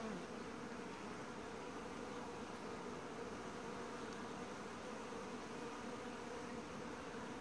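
Honeybees foraging on flowering buckwheat in autumn make a steady, dense buzzing hum that continues without a break throughout, with no voices.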